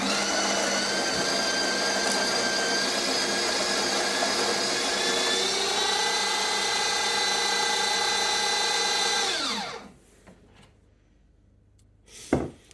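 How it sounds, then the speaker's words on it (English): A De'Longhi La Specialista Arte EC9155 espresso machine grinds coffee beans with a steady, loud mechanical whir for about nine seconds, then the motor winds down and stops, followed by near silence and a brief clunk at the end. "So we'll listen to the grind."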